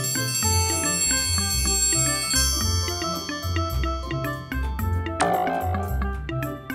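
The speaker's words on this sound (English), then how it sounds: "Hit the bell." A small toy bell struck over and over with a hammer in quick succession, bright metallic rings overlapping into a steady ringing, close and loud with no voices.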